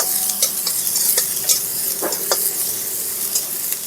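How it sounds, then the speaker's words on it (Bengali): Chopped onion and ginger fry in oil with a loud, close, steady sizzle, punctuated by frequent light taps and scrapes of a stirring spoon against the pan. "পেঁয়াজ কুচিটাকে হালকা ভাজা ভাজা করব, বেশি না, হালকা ভাজা ভাজা করে নেব"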